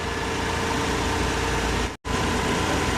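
A Chevy Silverado engine idles steadily with a constant broadband hum, a brief dropout mid-way as the AC compressor clutch engages, then the idle continues alone.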